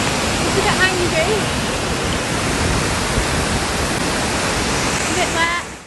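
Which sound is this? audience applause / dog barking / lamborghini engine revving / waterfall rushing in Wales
waterfall rushing in Wales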